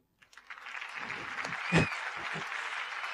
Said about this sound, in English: You're really helping me with all these claps.